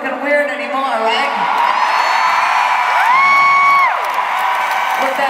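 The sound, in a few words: concert crowd cheering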